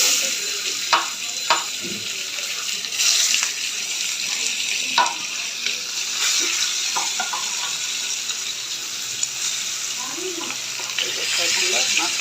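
Steady sizzling of hilsa fish heads frying in hot oil in a pan, with occasional sharp pops and crackles throughout.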